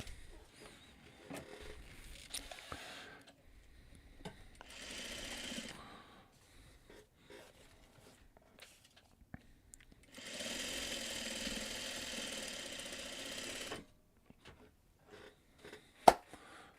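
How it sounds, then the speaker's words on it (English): A sewing machine stitches a quilt in short bursts: two buzzing runs of rapid needle strokes, the second longer and steadier, near and moderately quiet, with scattered handling noises between them. "Just start sewing, Eric. Just sew it."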